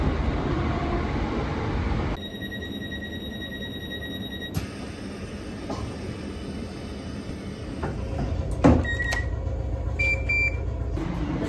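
A British Rail Class 455 electric train heard from inside, with a steady rumble of motion, a sharp tonal beep starting partway through, then clunks and further electronic tones as the ride continues, no voices.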